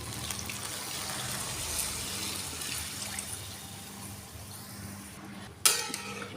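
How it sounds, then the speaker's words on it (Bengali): Water being poured into toasted rice in a pot while making veg pulao, a steady continuous pouring hiss close by, ending with a brief sharp clink near the end; no speech. "আমি এক কাপ চালের সঙ্গে দু কাপ জল দিয়ে দেবো"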